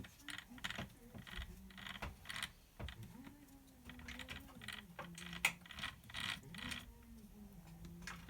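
The gears of a Tamiya Top Force Evo RC car gearbox turn by hand and clatter quietly in uneven bursts of small clicks and ratcheting.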